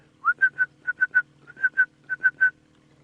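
A person whistles an imitation of a red-crested korhaan's call on a wildlife safari drive: about a dozen short, rising whistled notes in quick groups of two or three, clear and close over a faint low engine hum.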